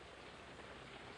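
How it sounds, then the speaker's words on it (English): Rain falls on a metal trash can, a dense, continuous patter of drops drumming on the metal, steady and close with no talk. "Oh, listen to rain on Oscar's can."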